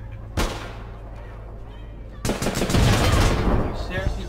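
Tommy gun fire in the online shooter APB Reloaded: a sharp shot near the start, then a dense, loud burst of automatic gunfire in the second half with a low background hum.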